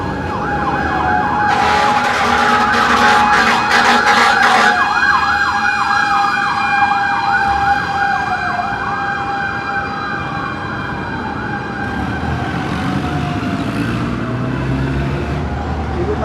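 Several fire truck sirens wail loudly and continuously in Valenzuela, Philippines, heading to a fire, their overlapping tones rising and falling, with a rapid horn blast early on and traffic noise underneath.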